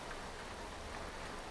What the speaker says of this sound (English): as the dark clouds roll in and the rain begins